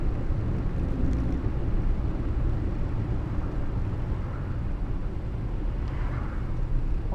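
Morris Minor car driving along, steady low engine and road rumble heard from inside, continuous and fairly loud with no talking.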